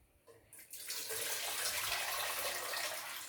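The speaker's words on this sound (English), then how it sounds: "I've got this hot water boiling already in the kettle." Hot water from a kettle pours steadily into a pot, a loud continuous splashing stream that builds after a brief start and carries on alone.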